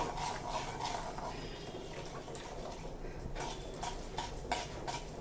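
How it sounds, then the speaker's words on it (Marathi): Fenugreek seeds roasting in a pan for raw-mango methamba, with a soft, steady scraping and rubbing of the stirring spoon and light clinks against the pan, faint and close, no talk. "या मेथ्या याच्यामध्ये खमंग परतून घ्यायच्या"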